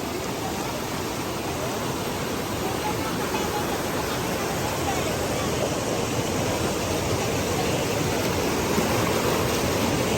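Water flows continuously along the path to Mother Falls, a steady broadband rush like a stream or falls, moderately loud and unchanging, with no clear voices over it.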